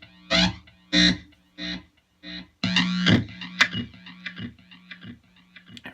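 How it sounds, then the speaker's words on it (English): A cigar box guitar played through an amplifier set to a harsh, obnoxious distorted tone, heard as short separate bursts and then a sustained buzzing chord with scattered scratchy hits, close and alone without talk. "So what I do is I dial up an obnoxious sound on the amp."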